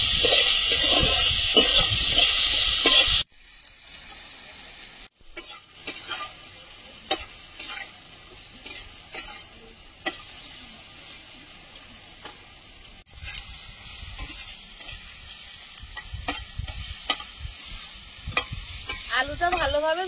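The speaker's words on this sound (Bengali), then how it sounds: "আলুটা ভালোভাবে ভেজে নিয়েছি" Potatoes fry in oil with turmeric. The clip opens with a loud hiss, then settles into a quieter crackling sizzle broken by sharp clicks and stirring scrapes, and a harsher burst returns near the end.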